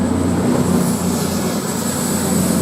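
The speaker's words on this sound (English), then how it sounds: "Now we've got this other one, train now departing" A CrossCountry train from Edinburgh pulls out of Durham railway station with a loud, steady rumble of wheels and engine, close by and continuous, with a faint high whine over the top.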